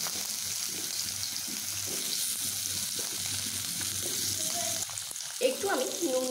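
Cut potatoes frying in a pan: a continuous hiss of oil, with some splashy, watery crackles and a few brief clinks near the end.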